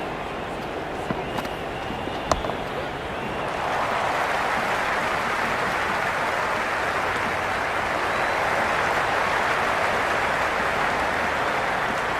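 Stadium crowd in the cricket video game Cricket 26, during a T20 World Cup match between India and the Netherlands, keeps up a steady wash of cheering that swells after a few seconds and holds loud and dense.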